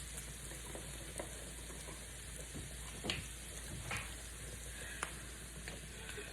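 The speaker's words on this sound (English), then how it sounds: "Next, I'm gonna put my garlic in." Garlic dropped into a pan for Tuscan fish with capers and sun-dried tomatoes, giving a faint, steady frying sizzle with a few soft utensil taps and clicks scattered through it.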